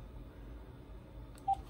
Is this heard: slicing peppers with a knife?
no